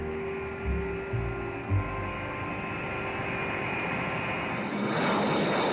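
B-52 bomber engines drone steadily in a low, continuous hum with a faint rise near the end and no talk.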